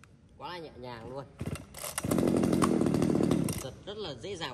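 A Komatsu chainsaw is pulled and starts, then roars steadily at close range for over a second before dropping back, with people talking before and after it.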